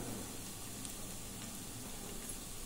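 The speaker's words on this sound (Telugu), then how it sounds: "ఈ విధంగా ఈ 4 ఉల్లిపాయలను కూడా కలర్ చేంజ్ వరకు త్వరగా వేగాలి" Sliced onions frying in a pan with salt and turmeric for coconut rice and chicken curry, a steady, even sizzle holding constant throughout with no talking.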